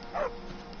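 A dog in the video game Skyrim gives a single short bark, clear and moderately close, over faint background ambience.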